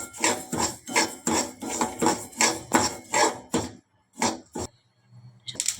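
Flax seeds roasting in coconut oil in a hot kadai give off a run of loud, regular crackling bursts that stop abruptly, followed by a few sparse pops and near-silence.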